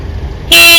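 A car horn blares in one sustained, loud honk, starting abruptly after a brief stretch of quiet low rumble.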